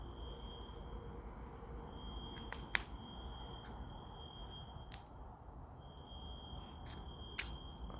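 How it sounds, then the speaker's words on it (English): An apartment building fire alarm sounds faintly as a steady, high-pitched electronic tone, broken by a few sharp clicks and taps in a quiet room. "you guys hear the alarm, right?"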